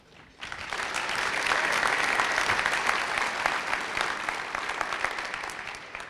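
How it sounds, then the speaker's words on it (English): An audience at a corporate offsite conversation with a basketball coach breaks into applause, a dense, steady clapping crowd rising quickly and holding at a strong level throughout. "they're clapping already"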